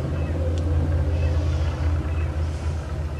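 A quad bike rumbles past outdoors in a garden, a steady low engine drone holding at a moderate distance for the whole stretch without fading.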